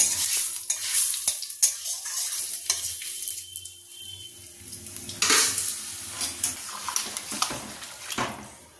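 Chopped vegetables for shukto tipped into hot oil tempered with panch phoron and asafoetida, giving bursts of loud sizzling and spattering with stirring clatter, then a steady fry that settles between scrapes.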